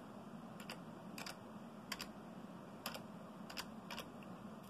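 Keys on a computer keyboard are tapped into a Windows 10 search box, producing about eight quick, light clicks in an irregular rhythm against a quiet, soft room background.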